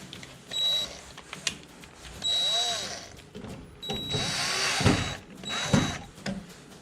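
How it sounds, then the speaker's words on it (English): A power drill drives screws into a panel during furniture assembly, with several whining bursts of a few seconds each, separated by short pauses and close by. "go ahead and put the screws in"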